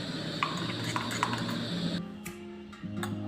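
A spoon stirring butter into hollandaise sauce in a pan, with light repeated clinks and scraping against the metal over a steady background hum.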